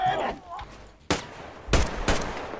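Gunfire in the shooter game Metro Exodus: a single sharp shot followed by a quick burst of several loud, close reports, with faint game sounds underneath.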